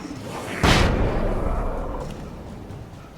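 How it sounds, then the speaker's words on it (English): A flashbang grenade goes off in Alan Wake, one sharp loud bang followed by a ringing, slowly fading rumble that trails away over a few seconds. "Throwing flashbang."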